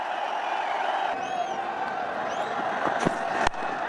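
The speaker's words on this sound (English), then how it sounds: "the crowd's loving it" A cricket stadium crowd roars in a broad, sustained cheer after a batsman's big shot, with scattered whistles and whoops rising over the din.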